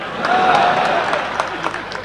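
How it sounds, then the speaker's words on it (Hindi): Applause from a rally audience swells and carries on under a murmuring crowd, with a few louder individual claps standing out near the end. "आप तो ताली बजा देना"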